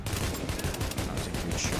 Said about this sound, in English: I'm taking some heavy fires, man